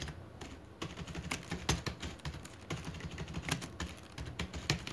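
Steady, close clicking of computer keyboard keys as a quiz name is entered in Microsoft Forms, a quick irregular patter of keystrokes with no voice over it.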